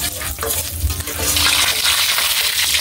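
Garlic fries in a pan, a loud steady sizzle with stirring scrapes that grows brighter and more intense partway through.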